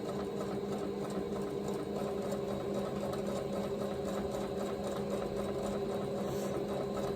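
A sewing machine stitches close to the raw edge of a quilted fabric Easter basket, a steady continuous mechanical whir heard close up and alone, with no pauses.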